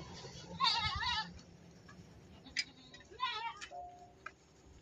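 Goat bleats in a pen on a farm, two wavering calls about two seconds apart, fairly close, with a faint clicking and low background noise between them.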